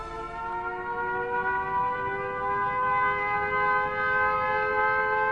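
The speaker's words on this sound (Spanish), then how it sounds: "Las sirenas dan la alarma antiaérea." A wartime air raid siren sounds the alarm: a steady, sustained wailing tone with clear harmonics holds and slowly swells across the whole stretch, at moderate distance over a low rumbling background.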